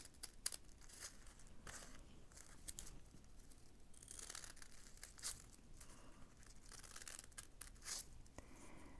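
Scissors snip through folded tissue paper for a frilly pom-pom flower, close crisp cutting and crinkling with repeated sharp bursts of paper noise and no talking.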